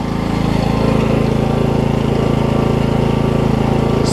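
A Coleman generator with a Briggs & Stratton Vanguard engine, recovered from water damage and a frozen engine, runs loud and close at a steady, even drone with no talk.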